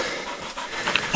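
Hunting dogs panting close by during a pig hunt after catching a boar in the Coromandel bush, quick breathy huffs building toward the end of the short stretch, with no talk over it.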